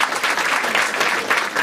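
Dense, sustained applause from a live audience at a Marathi stand-up comedy crowd-work show, a loud continuous wash of many hands clapping with no speech over it.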